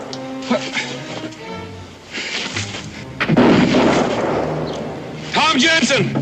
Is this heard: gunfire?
yes